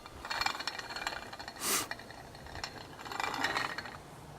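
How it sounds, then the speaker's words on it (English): A Victoria grain mill crank is turned slowly by hand, giving faint, close mechanical ratcheting and grinding rattles in uneven pulses, with one brief louder scrape midway. "For the purposes of this demonstration, I'm hand turning the crank very slowly."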